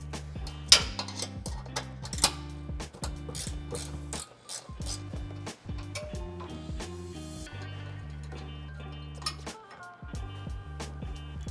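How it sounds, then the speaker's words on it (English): A wrench clicks as it works the 10mm front bumper bolts off a 2025 6th-gen Toyota 4Runner near the skid plate, giving fast, steady ratcheting ticks in short runs, close and fairly quiet. "So I am gonna use a wrench to get these off."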